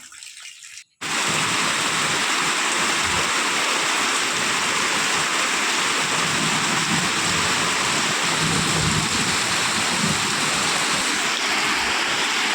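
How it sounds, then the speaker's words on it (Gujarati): Morning monsoon rain pours steadily in a Gujarati village, a loud, continuous rushing hiss that starts abruptly after a brief moment of quiet and carries on without talk. "આજે સવાર સવારમાં વરસાદ ચાલુ છે"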